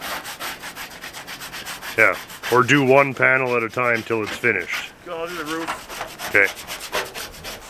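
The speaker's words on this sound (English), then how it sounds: "are you just like randomly scraping all over the place?" Paint is scraped off the body panels of a 1955 Peugeot 403, a continuous rasping, rubbing scrape under two people's conversation.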